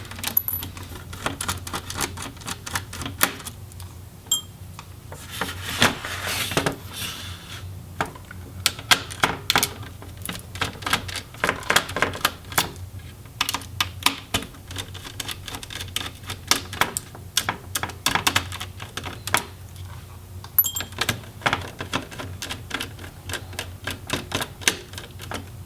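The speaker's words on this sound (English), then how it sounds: "I'll finish removing the motherboard screws" Small screws are removed from the motherboard of a Dell G5 5587 laptop during disassembly, with a long run of close metallic clicks, taps and rattles in irregular bursts and no talking.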